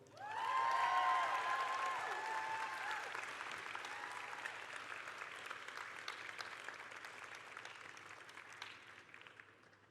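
An art-school commencement crowd breaks into applause, a dense wash of many hands clapping that swells quickly at the start, then holds and slowly thins, with a few voices and faint cheers mixed in.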